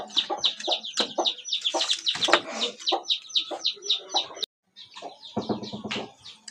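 A chicken clucks and chirps repeatedly in a rapid, uneven series of short calls at moderate distance, with a brief pause and some low thumps and handling noise toward the end.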